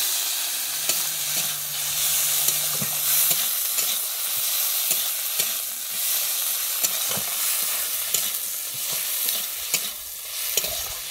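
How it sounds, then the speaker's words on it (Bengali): Chopped tomato sautéed with fried chili in a hot pan for a Bengali prawn and elephant-foot yam curry, giving a steady loud sizzle broken by repeated spoon scrapes and stirring clatters, with no talking. "দিয়ে আমি ভালোভাবে এবারে কষিয়ে নিচ্ছি"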